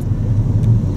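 A BMW 118i with a 1.5-litre turbo engine drives along, giving a steady low rumble and whir of engine and road noise for about a second, with no talk.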